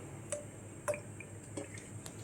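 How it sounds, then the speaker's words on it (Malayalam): Coconut oil, about 50 grams, poured into a pan for a crab curry with drumstick and jackfruit seeds, landing as a few faint, sparse drips and soft splats over a quiet background. "ഒരു 50 ഗ്രാം വെളിച്ചെണ്ണ ഒഴിക്കുക."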